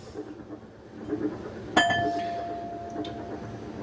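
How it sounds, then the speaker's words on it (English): A single bright bell ding rings out once, its clear tone lingering and fading over a low background murmur. "Now ring the bell every time I get started on a new one."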